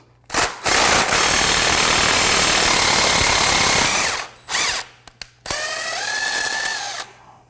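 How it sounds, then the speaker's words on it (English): A power tool drives the bearing puller tight against a pump's bearing housing in a long, loud, continuous whirring burst, then shorter bursts and a final whining run. The sound is close and harsh, with no talking. "Then we'll tighten until we can't free spin it anymore along the edges of the bearing housing here."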